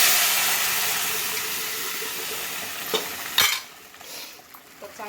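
Cooked dal poured into a hot, sizzling tempering hisses loudly at first, then settles as a spoon stirs it with a few scraping knocks against the pot.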